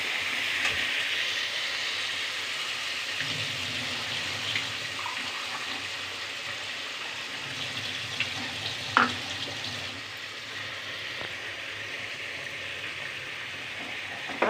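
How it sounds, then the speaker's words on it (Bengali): Tomato sizzling in a pan for potato curry, a steady wet frying hiss with occasional stirring scrapes and clinks, close and continuous with no talk. "দেখো এটা দিয়ে কিন্তু একটু কষতে হবে, যাতে কাঁচা টমেটোর গন্ধটা চলে যায়।"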